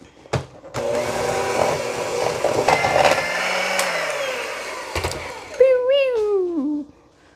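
Peanut butter cookie dough being mixed with shortening: a steady mechanical whir runs for several seconds with a brief pause, and a high voice-like glide comes near the end.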